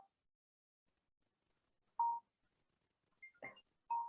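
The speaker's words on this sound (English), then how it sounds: "Sorry, that was my phone." A mobile phone rings during a conference talk in a quiet hall, with three short electronic tone bursts spaced apart, the last two closer together, clear and fairly faint with no talking.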